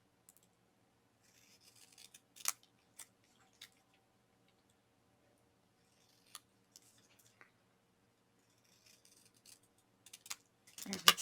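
Scissors trim paper for a scrapbook calendar page in quiet, sparse snips and clicks, spaced irregularly, with a small cluster of louder cuts at the very end in a near-silent room.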